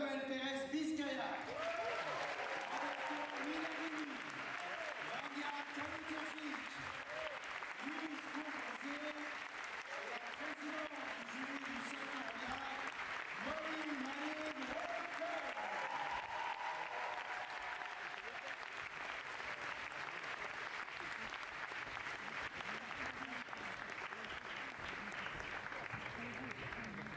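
An audience at the Cannes Un Certain Regard closing ceremony applauds to welcome the jury, a long, even wash of many hands clapping at moderate distance, with faint voices murmuring beneath at the start.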